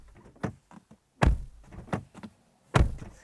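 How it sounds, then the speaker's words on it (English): The doors of a 2025 BYD Dolphin electric car shut with four close, solid thunks, the second and fourth louder and heavier, separated by short quiet gaps. "and it's what the door slam sounds like."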